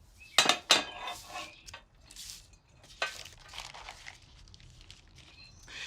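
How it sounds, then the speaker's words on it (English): Cooked, drained rice for an antipasto rice salad tipped into a bowl, with a couple of sharp clinks of a utensil against the dish up front, then soft scraping and rustling as the grains settle, close and moderately quiet. "Let's get the rice in the bowl."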